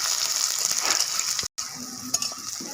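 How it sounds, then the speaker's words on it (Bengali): Dried red chillies, bay leaves and chopped onion hit hot oil in a pan, giving a loud, steady frying sizzle that breaks off briefly, then resumes with a few light utensil knocks. "তেল গরম হয়ে গেছে, দিয়ে দেবো শুকনো লঙ্কা, তেজপাতা, দিয়ে দেবো পেঁয়াজ কুচি"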